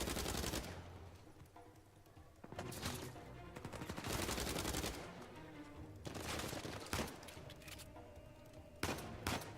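Video game gunfire in Uncharted 4: A Thief's End, with repeated loud bursts of automatic rifle fire and single shots separated by brief lulls, close and punchy against a noisy battle background without talk.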